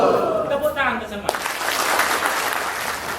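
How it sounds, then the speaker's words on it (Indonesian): An audience at an anti-gratification award ceremony breaks into applause after a voice, clapping swelling suddenly and continuing as a steady, fairly loud patter to the end. "Tepuk tangan ke semua"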